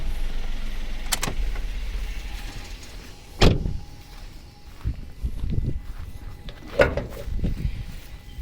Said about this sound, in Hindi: और मैं बॉनेट भी खोल देता हूँ।